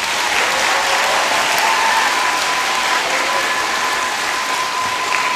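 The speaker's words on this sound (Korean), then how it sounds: "여러분들 우리 수고해준 김수진 선생님 위해서 박수 한 번 더 부탁합니다" Steady, dense applause fills a children's song festival hall as the audience claps for a teacher, an even, continuous patter of many hands that holds without a break from start to finish.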